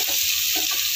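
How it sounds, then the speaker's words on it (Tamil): Onions sautéing in a frying pan while making tomato pulao, a steady close sizzle of frying with soft stirring scrapes through the second. "இப்போ நம்ம எடுத்து வச்சுருக்க வெங்காயத்தை போட்டுக்குவோம். நல்லா வதக்குங்க."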